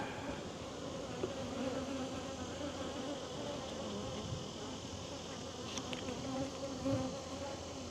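A dense, steady buzz of many honey bees fills the air continuously, close and even in loudness, with no voices.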